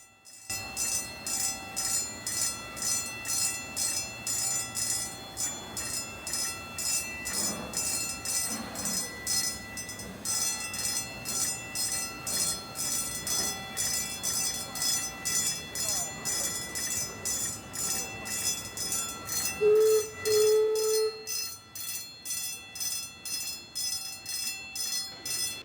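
Steam-style park train modeled on old Prussian state railway locomotives, running at a theme park; a steady rolling, rumbling rail sound continues throughout at moderate distance, with a brief louder tonal squeal or whistle-like note near the end.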